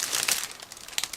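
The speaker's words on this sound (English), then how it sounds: "here we have another plastic bag, and this one full of the narrow plastic frames" A sealed plastic bag of 1/35 scale model kit parts is crinkled and handled up close, producing bursts of loud crackling and rustling.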